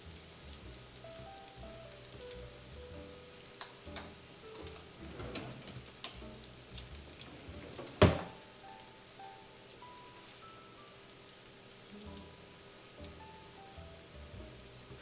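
Beignets frying in hot oil in a pan produce a soft, steady patter of bubbling with scattered faint pops and one sharp clack partway through.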